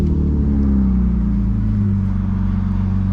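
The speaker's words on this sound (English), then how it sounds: "Beautiful day to be driving manual E36." A manual BMW E36 328i with a loud aftermarket exhaust driving, deep continuous engine drone and exhaust rumble heard from inside the car, steady and loud with slight pitch shifts as the revs change.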